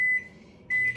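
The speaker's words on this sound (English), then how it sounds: "you're going to put them into a microwave on high for 15-second increments on high temp" A microwave oven runs on high, heating chocolate chips in short bursts, with a steady electronic tone at the start and again near the end over a low hum.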